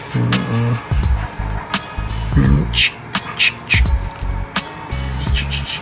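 A voice makes sharp crackling, hissing bursts in an imitation of electric sparks, repeated several times with gaps, mixed with low rumbling noises nearby.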